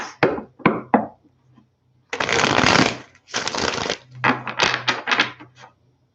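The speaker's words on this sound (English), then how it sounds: "Let's get this nice shuffle for Virgo." Playing cards being shuffled nearby: a few quick riffles and taps, then longer bursts of fluttering card noise with short gaps between.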